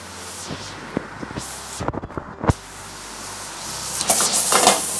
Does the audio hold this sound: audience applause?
no